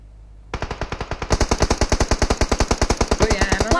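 Rapid automatic gunfire in PUBG Mobile, a sustained loud burst of evenly spaced shots starting abruptly after a brief quiet moment and continuing without pause.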